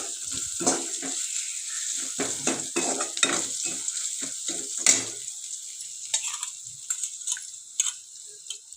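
Tempering with crushed garlic sizzles and fries in a pan for a lentil dish with drumstick leaves, a steady hiss broken by stirring scrapes and a few clinks, with no talking.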